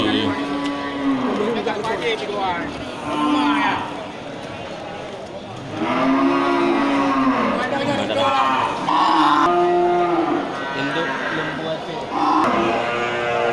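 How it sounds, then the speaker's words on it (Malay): Aceh breeding cattle with calves moo repeatedly at a busy livestock market, several drawn-out lowing calls spaced through the clip beneath steady crowd chatter and people talking nearby. "Banyak jenis sapi indukannya dari jenis sapi Aceh ya, lengkap dengan pedetan"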